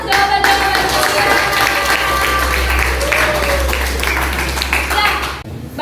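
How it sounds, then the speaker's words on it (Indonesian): Students in a high school classroom applaud together, steady clapping filling the room for several seconds before cutting off, with a low hum and some voices underneath. "tepuk tangan atas jawaban-jawaban kalian"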